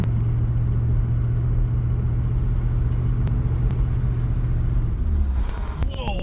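A 1977 Bonneville, a car needing some work, drives with a steady loud engine rumble and road drone that holds throughout, easing slightly near the end.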